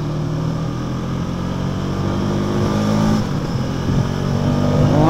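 2025 KTM Adventure 390 motorcycle riding on a highway, a steady engine drone with rising pitch as it gains speed, heavy wind rush over the top, loud and continuous.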